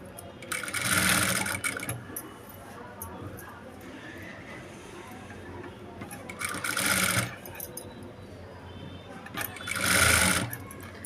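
Sewing machine stitching ready-made piping onto a garment, running in three loud bursts of rapid whirring stitches separated by quieter pauses, close up.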